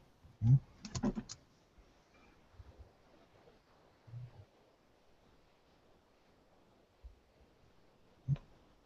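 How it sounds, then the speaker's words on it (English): Keyboard typing into a chat box, heard as a few quick clusters of soft key clacks near the start and another isolated tap near the end, with quiet room noise between. "Can you type it in the chat box?"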